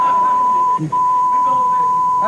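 A steady censor bleep tone runs almost continuously over a recorded phone sex conversation, briefly broken once, with speech murmuring underneath.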